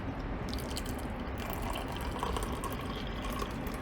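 Hot water poured into a cup, a steady close trickle and splash of liquid running continuously with a soft dripping texture, no talking.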